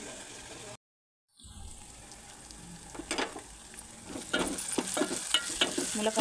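Drumstick pieces (moringa pods) frying in a home pan, a soft sizzle broken by a short silent gap, then growing louder with repeated stirring scrapes and clinks, close and alone without talk.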